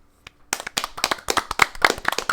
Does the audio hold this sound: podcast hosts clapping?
yes